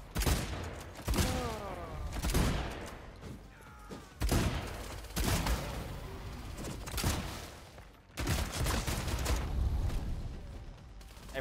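Repeated shotgun blasts from double-barrel and pump shotguns in the video game Bloodhunt, several loud bursts spread across the clip with some overlapping mechanical clatter between shots.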